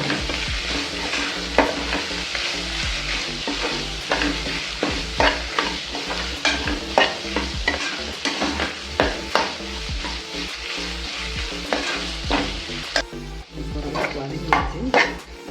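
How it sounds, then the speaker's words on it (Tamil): Tomatoes with carrot and other vegetables for vegetable biryani are sautéed in a pan, with a loud close sizzle and rapid, irregular spatula scrapes and clinks against the metal throughout. "அடுத்தது தக்காளி எல்லாம் வதக்கிக்கணும்"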